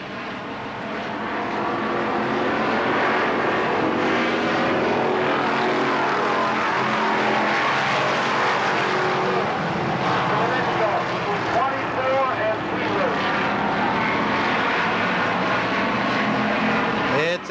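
Race cars roar around Kil Kare Speedway in a green-flag restart, a loud, continuous blend of engines passing, while an announcer talks steadily over the noise throughout.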